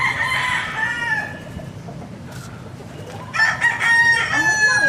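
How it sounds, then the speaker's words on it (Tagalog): A rooster crows twice, loud and near, one long call at the start and another near the end, with a quiet stretch of ambient noise between. "Kinsa kay tag-iya ang manuka, Bigta?"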